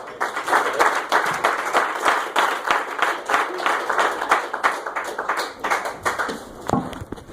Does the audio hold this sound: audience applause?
yes